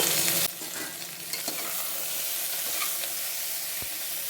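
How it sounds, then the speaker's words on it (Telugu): Green chilies, onion, tomato and garlic fry in a pan with a steady, close sizzle throughout, interrupted by one sharp clatter near the end. "టమాటా, తెల్లగడ్డపాయలు మొత్తం వేసి కొంచెంసేపు అట్లా వేపుకుందాము"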